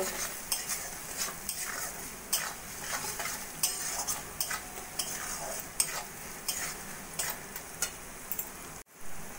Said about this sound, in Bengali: দু 3 মিনিট মতো মশলাটা কষিয়ে নেব